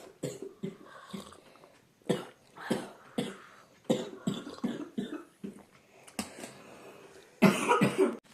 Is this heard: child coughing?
yes